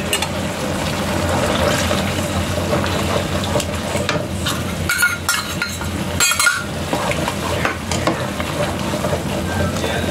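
Pork sauce simmering and sizzling in a pan as cornstarch water thickens it, with a steady frying hiss throughout and occasional utensil scrapes and clinks of stirring.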